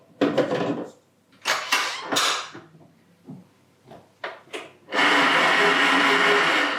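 A KitchenAid stand mixer whirs into a loud, steady run on high speed, beating cookie cake batter after a few scattered clunks and scraping knocks of a bowl being set in place.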